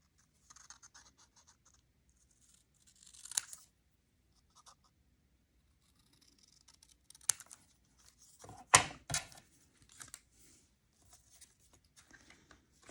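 Paper card is cut on a slant, giving quiet, close scraping and slicing strokes in scattered short bursts with pauses between, including one louder crisp cut near the middle.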